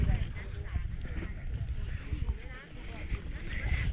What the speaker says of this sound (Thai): ลมแรงหน่อยนะครับต้องขอโทษที